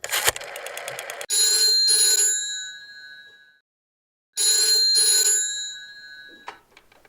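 A telephone rings in two long electronic trilling bursts separated by a pause, loud and close, with some clattering before the first ring.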